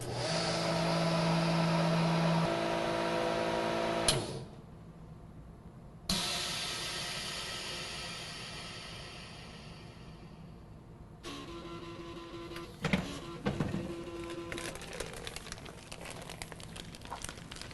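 A vacuum packaging machine evacuating a bag of heavy soup at a 97.5% vacuum setting, with a steady pump drone and hiss that cuts off, restarts, and later gives way to faint bubbling and clicks.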